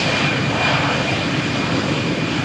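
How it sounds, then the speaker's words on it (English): EasyJet jet airliner beginning its takeoff roll on runway 13 at Malaga Airport on a stormy morning, a steady loud broadband engine roar with no pauses. "preparing for takeoff, as you can see. And cleared. Let's go, EasyJet."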